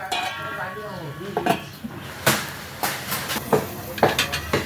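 A pot lid is set over chayote dalna simmering on a gas stove, giving a few scattered metallic clinks and clatters of cookware against a soft background hum.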